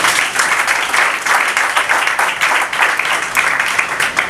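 Steady applause from a gathered crowd at a civil wedding ceremony, a dense continuous wash of many hands clapping together at fairly close range with no pauses and no voice on top.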